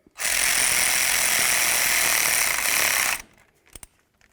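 A loud, steady burst of an impact or air tool snugging a bolt through the steering knuckle of a 1999-2007 Ford Super Duty F-250 during a front wheel bearing job, running about three seconds before cutting off, followed by a few faint clicks.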